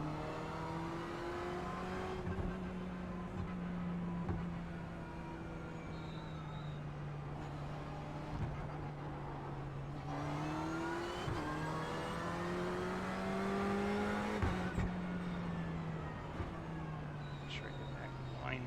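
A race car engine in a racing video game holds a steady, sustained drone, its pitch dipping and climbing through gear shifts around the corners. It is loud and continuous across the whole stretch, with faint talk beneath it.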